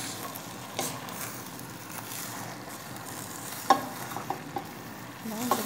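Sautéed tuna and talbos greens are stirred in a hot pan, with a soft continuous sizzle and a few sharp scraping clinks of the utensil, fairly quiet and with no talking.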